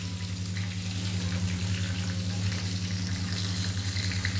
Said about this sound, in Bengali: এই পটল ভাজা হচ্ছে